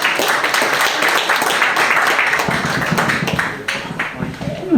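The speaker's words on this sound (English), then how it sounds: "Please give a big round of applause to Detective Rohail Khalid." Audience applause at a community celebration as Brooklyn South detective Rohail Khalid is introduced, a burst of claps and taps mixed with chatter that fades midway before a few scattered claps return.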